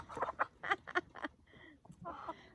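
Excited backyard chickens cluck and squawk close by in a quick run of bursts, pausing briefly before another cluster of calls.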